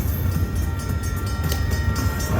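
A train sound effect plays in the Railroad Riches slot machine game: a steady, loud rumbling rail roar with a faint rhythmic clatter, continuous throughout with no talking.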